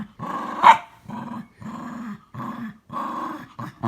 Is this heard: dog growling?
yes